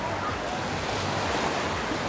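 Sea waves wash onto a crowded beach in Anapa on a rough day, with steady, loud surf and wind noise that roll on without a break.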